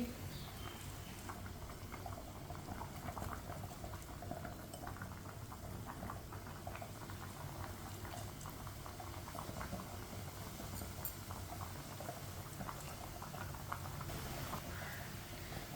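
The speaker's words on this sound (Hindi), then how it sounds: "पानी को अच्छी तरह बॉयल आ चुका है।" Water at a full boil in a pot on the stove gives a faint, continuous bubbling hiss with small crackling pops that holds steady throughout.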